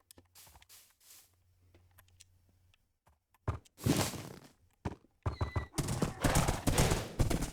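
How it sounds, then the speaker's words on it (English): A horse in the Minecraft video game gives a loud whinny, then fast clip-clopping hooves and another neigh follow in quick bursts, close and clear with no talking. "how good our horse is?"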